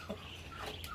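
A faint rooster call rises out of a noisy outdoor background, brief and somewhat distant, with no talking.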